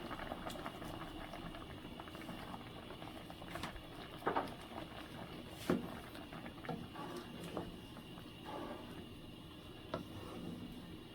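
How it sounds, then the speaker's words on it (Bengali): Tomato boils in a pot, making soft, continuous bubbling and popping that stays quiet and close throughout, with a few slightly louder bursts. "অনেকটাই সিদ্ধ হয়ে গেছে টমেটোটা"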